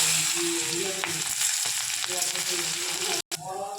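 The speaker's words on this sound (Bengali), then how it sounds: "পেঁয়াজটা ভাজা ভাজা হয়ে গেছে" Chopped onions frying in hot oil in a wok with cumin, a loud close sizzle with stirring scrapes throughout, briefly cut off near the end before the frying resumes.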